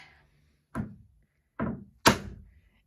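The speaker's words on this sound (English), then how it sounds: "And you just bang it in there" Three sharp wooden knocks ring out as a wood dowel is hammered into a hole in a dresser, each a short close thunk with quick decay and brief pauses between strikes.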